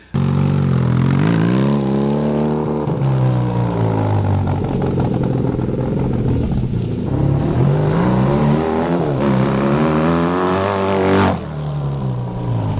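A motorcycle engine runs loud and close, revving up and down in rising and falling sweeps before settling to a lower idle near the end.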